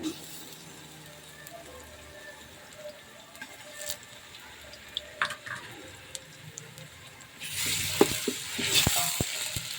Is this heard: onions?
yes